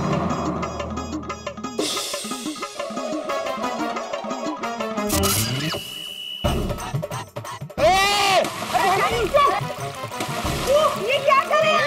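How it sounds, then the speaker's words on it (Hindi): Water splashing and sloshing in a swimming pool as people jump in and swim, a busy continuous splatter with speech and shouting over it throughout. "चलो तैरते हैं।"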